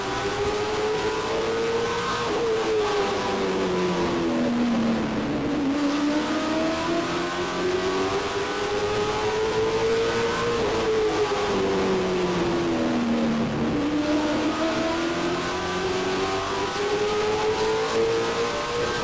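A race car engine roars loud and close throughout, its pitch climbing and dropping in long repeated sweeps as the car accelerates and lifts through the laps, with no talk.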